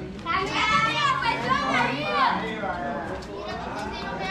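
Cuban children at play outdoors in the afternoon, their high excited voices calling and chattering nearby, loud at first and then fading to a softer background murmur.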